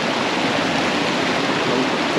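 Continuous rushing of the Pulangi River flowing, steady and close, with no voices.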